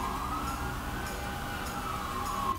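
A distant ambulance siren wails faintly with a steady tone as it passes, over low traffic rumble, no voices present.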